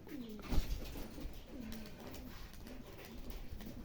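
Giribaz pigeons from Rajshahi coo softly and repeatedly in low, rolling calls against quiet background noise, with a brief flutter near the start.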